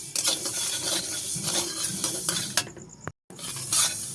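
Black mustard seeds are stirred and lightly roasted in a hot pan, giving a close scraping, rustling stir with a faint sizzle, a couple of sharper knocks, and a brief cut to silence near the end.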